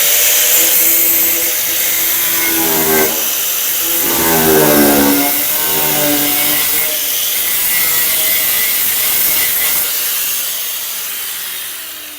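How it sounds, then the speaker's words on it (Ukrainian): A loud, harsh grinding whine with a rising and falling pitch as an angle grinder cuts through tin, continuous for several seconds before easing off. "я зрізаю грубо болгаркою"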